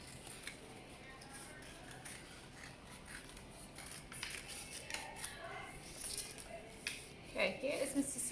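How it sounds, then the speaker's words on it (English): Scissors snipping through paper while a seahorse shape is cut out for a craft, a string of soft crisp cuts and paper rustles, faint and close, growing busier toward the end. "Remember to turn your paper as you cut."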